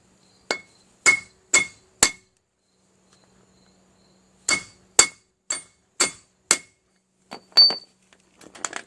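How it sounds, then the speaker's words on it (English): A mini sledgehammer strikes a Jeep Wrangler U-joint bearing in two bursts of sharp metallic blows, four then five, evenly spaced and loud against near silence, followed by lighter ringing taps. "I have a little mini sledgehammer, and I'm just going to start hitting away"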